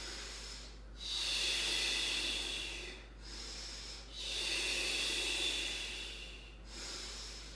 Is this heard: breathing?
yes